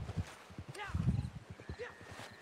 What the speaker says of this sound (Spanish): Oh, ese es el caballo de Ibe. Mira, por ahí viene